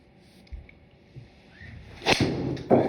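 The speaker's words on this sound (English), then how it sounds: "I could hear it whistle through the ports on the back of the driver" A Mizuno STG 440 driver strikes a golf ball during a launch-monitor session, giving a sudden sharp whooshing crack followed by a second brief burst against a quiet background.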